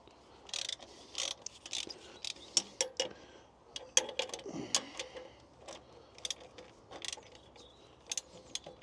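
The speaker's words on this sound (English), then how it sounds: "I think I've definitely got to undo the next set of bolts" Ratchet clicking in short irregular bursts while undoing bolts on a JCB Fastrac tractor, one set tucked behind the turbo oil return pipe, with metallic taps and clinks of tools close by.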